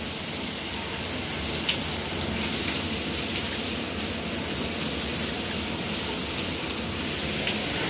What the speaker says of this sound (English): That was a warm shower I just took.